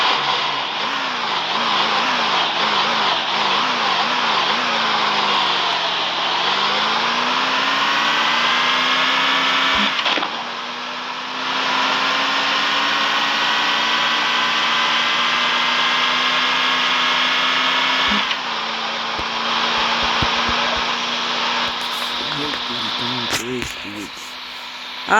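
Engine of a 3-speed drag racing car in a video game, a buzzing synthetic whine that climbs in pitch, drops at each gear change and climbs again, steady and close.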